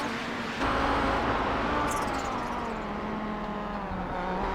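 Race cars racing at Road America in iRacing, with a steady loud engine drone that holds through the clip and a brief high whine partway through.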